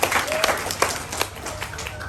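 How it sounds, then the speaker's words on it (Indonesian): An audience at a gathering claps for a recited poem, a brief burst of dense, fairly loud applause with a voice briefly audible over it. "Boleh kita beri tepuk tangan untuk puisi itu."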